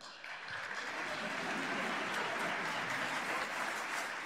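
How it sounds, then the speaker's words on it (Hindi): A television studio audience at a Hindi talk show with Salman Khan breaks into applause, a dense, steady clapping that swells quickly and holds loud for several seconds. "आप लोग ताली बजा के बताइए और हाथ उठा के बताइए"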